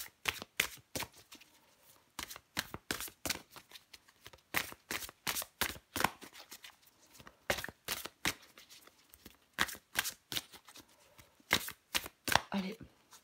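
Tarot cards being shuffled by hand, a close series of crisp riffling flutters and slaps in an uneven rhythm, repeating steadily through the clip.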